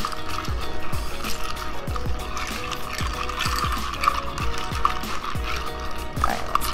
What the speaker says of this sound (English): I'm gonna grab some ice. And just stir a generous amount.